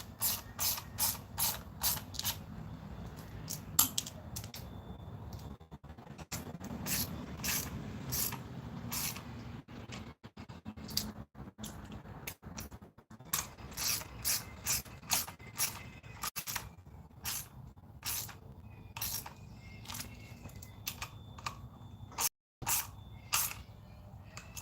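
Hand ratchet snugging the three water pump bolts a little at a time on a car engine, close up, with bursts of rapid clicking separated by brief pauses, alone without talk.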